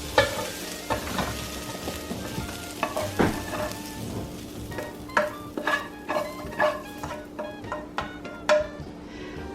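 Spoon scraping softened sautéed vegetables out of a pan into a bowl for a chicken vegetable pie, a run of close, irregular metallic scrapes and taps over a faint sizzle.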